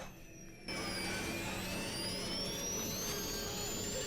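Steady, loud jet airliner turbine roar with high whining tones rising slowly, starting abruptly after a brief quieter moment and holding continuously.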